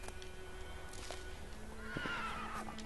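A horse neighs in The Witcher 3: Wild Hunt, a short, fairly faint whinny near the end following a couple of soft hoof-like thuds, with no voices over it.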